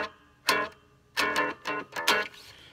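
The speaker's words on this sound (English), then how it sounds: "I just want you to hear the sound of these springs." Loose springs inside a cigar box guitar rattle and bang in four short metallic bursts with brief gaps between them, close and fairly quiet, with no talking.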